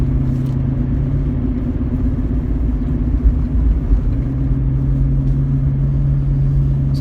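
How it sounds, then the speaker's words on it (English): A Jeep Cherokee XJ driving along as a daily driver, its engine giving a steady low rumble with a constant drone and slight swells in load, close and fairly loud, with no talking. "So this is daily driving the Jeep Cherokee XJ."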